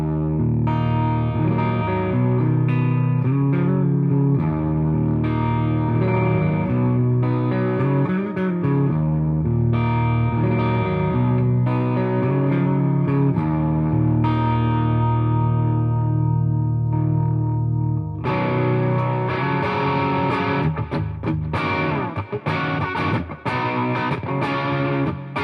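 Electric guitar played through a Fender Tone Master FR12 on its Deluxe Reverb preset, with sustained ringing chords and melodic lines, loud and continuous, shifting to busier, brighter picking in the second half.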